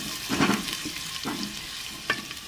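Ginger garlic paste dropped into hot oil, a short burst of sizzling and stirring with a few crackles, close and brief, no voices.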